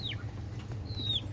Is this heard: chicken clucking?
yes